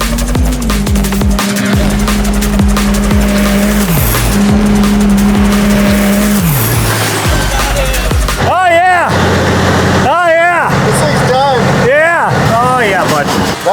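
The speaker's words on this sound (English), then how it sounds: "It was a sick burnout." A 900hp turbo diesel Ford F1 truck doing a burnout, loud roaring engine with howling tire squeal and rising, falling revs, voices under the noise.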